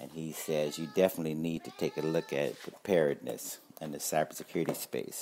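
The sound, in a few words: cat meowing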